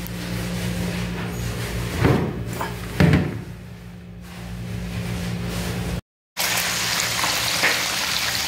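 Small shrimp fry in a pan for a packed lunch, giving a steady close sizzle with a couple of sharp knocks, then a brief cut before the frying hiss resumes.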